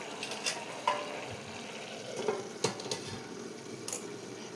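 Meal maker tomato curry simmering under a lid in a pan, a steady soft sizzle and bubbling with a few faint clinks and ticks over it, close and even throughout, no speech.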